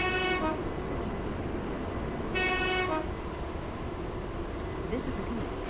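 A rumbling train in the video game Stepford County Railway approaching a station, with two short horn toots, then a faint chime near the end, heard over a constant low mechanical drone.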